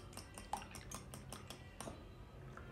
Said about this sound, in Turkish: Diğer tarafta 3 adet yumurtayı iyice çırpıyorum.